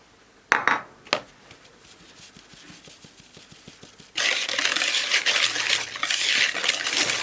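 Lemon cake batter is stirred in a bowl with a utensil, giving a few sharp clinks followed by steady soft scraping and sloshing, close and moderately loud, with no talk.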